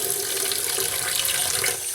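A tap pours water in a continuous, steady hiss, close and fairly loud throughout with no voices.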